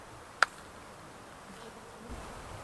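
Honeybees from packages about to be transferred into nuc hives buzz faintly and steadily, with one sharp click near the start and a low rumble later.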